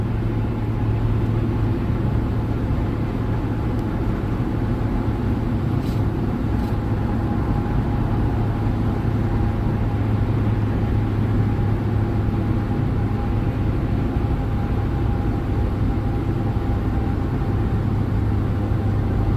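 Cars idling and driving past at a busy highway rest stop near the Nevada–California state line between Las Vegas and Baker, a continuous low engine rumble with a steady hum and a couple of faint brief clicks.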